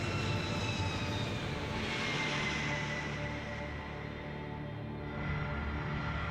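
A Lockheed C-5 military transport plane's four jet engines produce a steady, loud, droning roar with sustained whining tones throughout.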